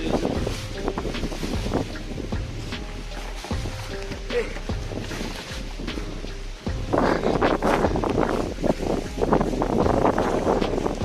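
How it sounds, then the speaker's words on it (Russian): Cold wind gusts through a storm in Saint Petersburg as a cyclone moves in, a loud, rough rush that buffets the microphone. People talk over it, and the wind strengthens noticeably toward the end. "О, холодный ветер."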